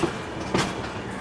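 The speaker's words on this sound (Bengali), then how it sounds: "সেই ভোরের আলো ফোটার আগেই আমাদের ট্রেন রওনা দিল কন্যাকুমারী থেকে হাওড়ার উদ্দেশ্যে।" Passenger train running on the Kanyakumari to Howrah route, a steady broadband rumble of the carriage with a brief louder clatter midway, heard alone and close.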